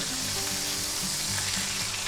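A London broil steak, just flipped, searing in a hot pan with a loud, continuous sizzle and crackle that stays even throughout.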